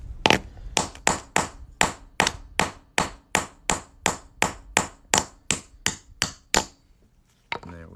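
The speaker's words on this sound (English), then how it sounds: "we're going to be using a plastic hammer instead of a steel hammer, because steel on steel is a bad idea" A plastic hammer strikes a coin set on a ring-making tool about fifteen times in a steady rhythm, each blow a sharp, close knock that trails off quickly, before the strikes stop.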